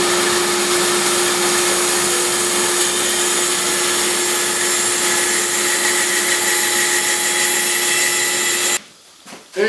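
A vacuum system holding a plastic plate with a rubber gasket on a woodworking resawing jig gives a loud, steady whining hum that runs on, then cuts off abruptly near the end with a few brief thumps.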